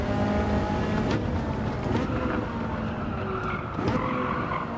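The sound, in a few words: tyres squealing, Ferrari in Gran Turismo 7 video game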